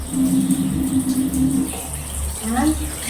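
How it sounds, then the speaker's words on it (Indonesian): Hands rinsed under a running tap until the soap lather is gone, a steady splash of flowing water with a voice talking over it. "sekarang kita bilas sampai bersih dengan air mengalir"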